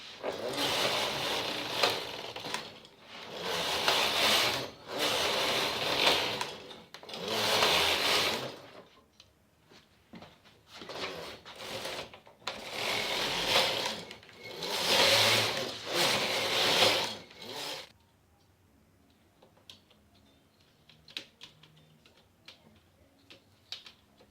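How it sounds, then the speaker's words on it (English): A standard knitting machine carriage sweeps back and forth across the needle bed in repeated whooshing, clattering passes about two seconds each, then stops, leaving faint ticks and handling noises. "now I'm just going to start knitting"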